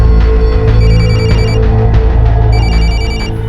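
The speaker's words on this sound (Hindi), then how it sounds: "आंटी फोन की आवाज तो अंदर से आ रही है।" Telephone ringing inside a locked house, its steady repeating electronic bell pattern loud and continuous throughout, with no voices over it.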